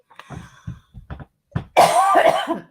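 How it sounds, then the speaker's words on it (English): A few short, separate throat-clearing coughs come first, then a louder, longer burst with a rough, strained tone, all close and alone with no other sound behind them. "After I cough"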